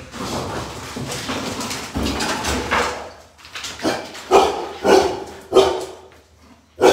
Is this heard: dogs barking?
yes